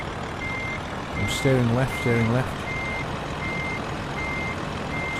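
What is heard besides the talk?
truck reversing beeps in the video game Euro Truck Simulator 2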